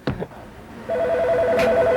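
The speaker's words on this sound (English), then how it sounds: "the phone is ringing." A telephone rings in a 1997 football comedy sketch. A steady warbling electronic ring starts partway through, loud and close, after a couple of brief knocks.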